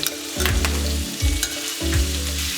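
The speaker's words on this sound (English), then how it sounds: "I'm going to add the shrimp," Shrimp hit a hot pan with garlic and fry in a close, loud sizzle, with a few low scraping strokes and no talk.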